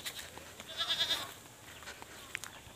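A goat on a farm gives a short, faint bleat while the herd is watered in sweltering heat, with quieter rustling and a small high chirp around it.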